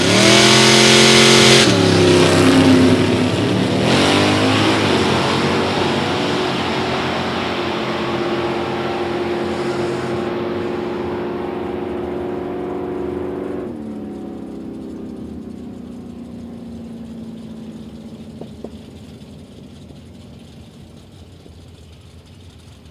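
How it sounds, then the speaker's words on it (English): A 1980 Pontiac Firebird drag car powered by a 496 cubic inch big block Chevrolet engine launches at a drag strip with a loud roar, then the sound fades steadily into the distance as the car speeds away. "1980 Pontiac Firebird, rolls up left-hand side, powered by that 496 cubic inch big block Chevrolet"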